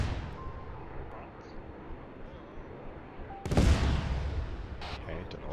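A deep booming explosion in the video game Arma 3 bursts out partway through, followed by rumbling debris, over a low background of battle ambience.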